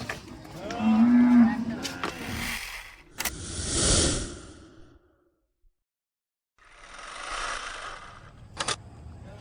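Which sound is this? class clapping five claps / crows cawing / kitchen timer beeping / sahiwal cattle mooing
sahiwal cattle mooing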